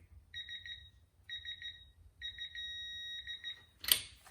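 A digital torque wrench beeps in quick warbling bursts at its target torque, three groups in a row, then a sharp click as the tool releases.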